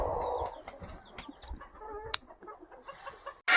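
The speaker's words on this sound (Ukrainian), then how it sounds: "Наша квочка. Дивіться, які вже курчатка підросли, славні стали вже." A broody hen calls repeatedly amid soft clucking, with small peeps and short chirps from her nearly month-old chicks scattered around, close by in a farmyard setting.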